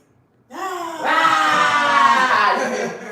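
A person lets out a loud, sustained scream that starts abruptly after a brief silence, swells, and holds with a raw, strained tone for a couple of seconds.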